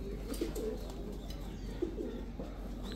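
An ice pigeon coos close by in a couple of soft, rolling phrases against a faint low background hum.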